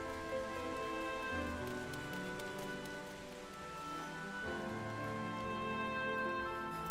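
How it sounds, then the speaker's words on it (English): Steady rain patters continuously over a bed of layered tonal music, with no voices, in the video game Final Fantasy XIV: Shadowbringers. "Did you notice that it hasn't stopped raining yet?"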